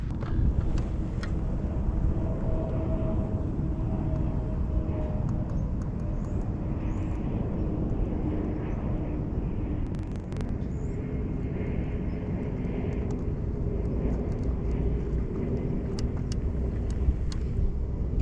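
Go-kart driving across grass outdoors: a continuous droning small engine with steady rumble and a faint whine, heard close and unbroken, with light wind noise and occasional clicks, no talk.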